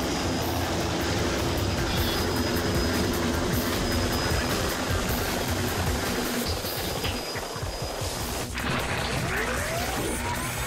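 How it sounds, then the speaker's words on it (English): A helicopter in the video game Devil May Cry 2 roars as a loud, continuous rotor drone, dense and unbroken, with a brief crash-like burst near the end. "And it's a helicopter!"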